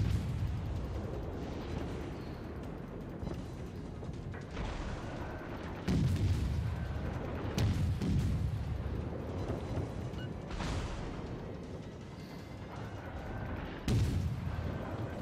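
Naval artillery salvos in the warship combat game World of Warships: repeated deep booming blasts with rumbling tails, several heavy shots arriving in clusters over a low, steady background of battle noise.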